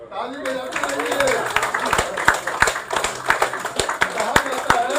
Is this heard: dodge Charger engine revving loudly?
no